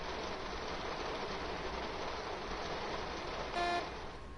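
Steady rain drums on a train cab in a stormy train simulator game, a dense even hiss throughout, with a brief tonal horn-like blip near the end.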